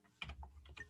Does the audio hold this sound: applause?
no